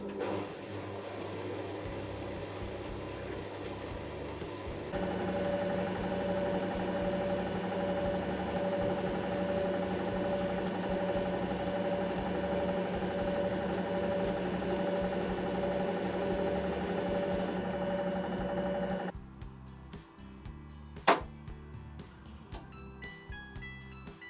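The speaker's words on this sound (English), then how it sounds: "So we've now entered the actual final spin stage." Brand new washing machine running its final spin cycle, a steady loud motor whine and drum rumble with faint ticking, then winding down and stopping near the end.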